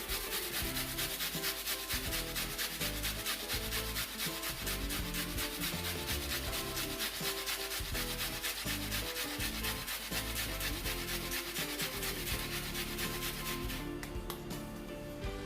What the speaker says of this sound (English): I'm going to go ahead now and grate half of my white onion.